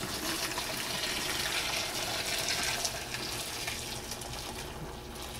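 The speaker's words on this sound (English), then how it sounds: "we're going to pour it right over the cucumbers" Hot pickling brine for Korean cucumber pickle poured from a pot over cucumbers, a steady, close splashing rush of liquid lasting throughout, broadband and even with no talk.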